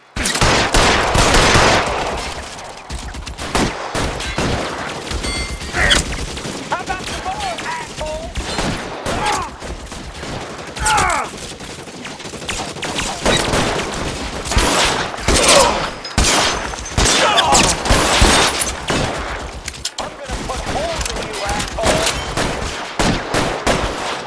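Gunfire in the 1940s Los Angeles detective video game L.A. Noire, with repeated sharp shots and fast volleys crackling across a sustained shootout, loud and near with a little talk mixed in.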